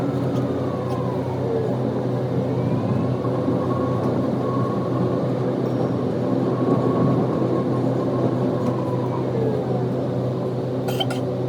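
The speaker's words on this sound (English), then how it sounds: "Now I gotta transfer to the tram after I just took 4 stops in the subway." Tram or metro train running in Toulouse, a steady loud rumble and rolling drone throughout with faint squealing tones and a brief rattle near the end.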